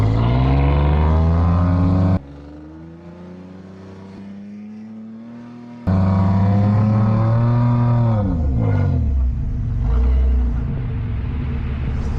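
A stuck truck at Daytona Beach Truck Week revs its engine hard in loud bursts, dropping to a low idle between pulls, then surging again with rising and falling pitch.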